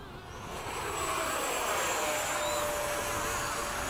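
An E-flite 80mm F/A-18D RC model jet lands at a flying field, its electric ducted fan whining in a loud, steady, sustained roar that swells slightly and holds at full volume throughout.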